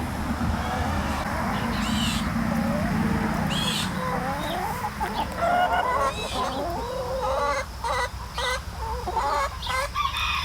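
Hens cluck and chatter continuously nearby, with a few higher squawks and calls rising over a steady farmyard background.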